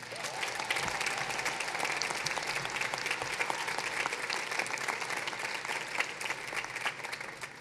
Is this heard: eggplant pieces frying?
no